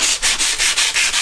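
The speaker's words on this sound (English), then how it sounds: "Just scuff it up" Quick back-and-forth scuffing of a metal brake disc by hand, six or seven rhythmic abrasive strokes, close and fairly loud.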